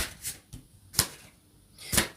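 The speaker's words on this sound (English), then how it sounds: "I'm shuffling backwards." Tarot cards are shuffled in three or four short, crisp riffling bursts with quiet gaps between them, close up, with no talk.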